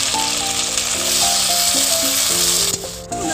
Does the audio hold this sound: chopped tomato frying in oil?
yes